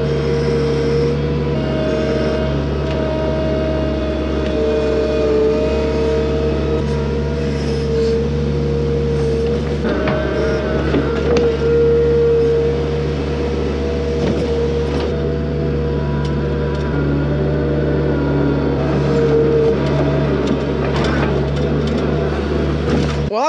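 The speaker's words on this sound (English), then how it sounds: "I'm just gonna come through with the skid steer loader and get the rest of it moved in." A skid steer loader moving sawdust on a farm, a loud, steady diesel engine drone with a constant low hum, occasional clanks and scraping throughout, no talk.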